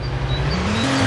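Game car engine in Car Parking Multiplayer revving up through the gears, a steady droning hum whose pitch climbs and steps up in a short burst, no talk.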